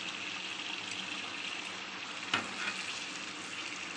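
Amla gooseberries frying in hot oil for a pickle give a steady close sizzle throughout, with a brief sharp clink of a spoon partway through.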